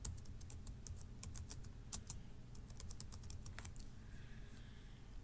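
Login details are typed on a computer keyboard as a quick, uneven run of soft, close key clicks with short pauses between them, heard alone in a quiet room.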